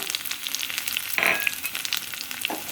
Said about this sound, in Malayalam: 2 ടേബിൾ സ്പൂൺ വെളിച്ചെണ്ണ ഒഴിച്ച് ചൂടാകുമ്പോൾ അതിലേക്ക് 1 ടീസ്പൂൺ കടുക്, 3-4 ചുവന്നുള്ളി കനം കുറച്ചരിഞ്ഞത്